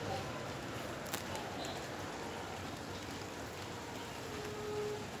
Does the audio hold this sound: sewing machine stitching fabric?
no